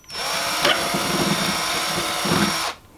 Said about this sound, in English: And drill you a hole.